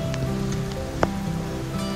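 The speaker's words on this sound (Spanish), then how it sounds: "ahorita que está lloviendo" Rain patters steadily onto surfaces along Maxwell Trail #37 in Arizona, a dense continuous wash with a few sharper drips and a faint steady hum underneath.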